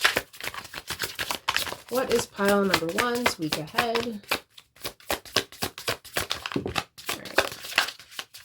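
Tarot cards being shuffled by hand in short, quick riffling bursts that run under a voice talking through most of the stretch, with a brief sung or hummed phrase in the middle.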